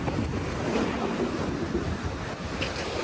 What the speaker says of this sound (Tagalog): Mahangin guys sa gabi.